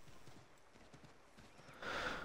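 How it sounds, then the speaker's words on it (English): Horse hooves clop at a walk in Assassin's Creed 3, a faint, regular series of steps followed by a louder, brighter whinny near the end. "this horse does not like to walk through water"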